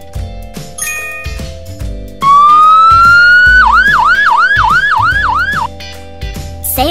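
A fire truck siren wails loud and close, sweeping up in one long rise, then breaking into a fast run of repeated up-and-down yelps that stop abruptly near the end.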